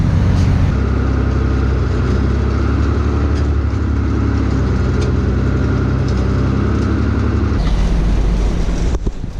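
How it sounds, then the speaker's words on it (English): Steady, loud mechanical drone of a tractor engine running a feed mixer for cow feed, a constant low rumble with whirring machinery throughout, changing slightly near the end. "I hook this tractor up to the mixer here."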